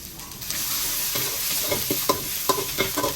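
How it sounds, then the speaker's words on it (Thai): Apple snails stir-fried with wan fai flowers in a pan, with a steady frying sizzle and a series of sharp scraping stirs that grow more frequent toward the end. "ก็ผัดผัดผัดไปใส่อีกลงมา ผัดให้หอมเลยครับ"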